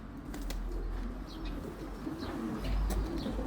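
Pigeons at a pigeon club in Andijan, cooing softly and steadily with a few chirps and wing flutters against a constant low background rumble, no talking.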